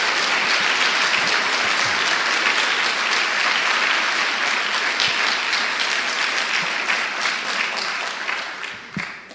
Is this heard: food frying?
no